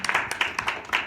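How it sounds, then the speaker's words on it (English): A brief round of applause for Grandpa James, a quick patter of close hand claps from a small group lasting about a second. "Can we give Grandpa James a round of applause?"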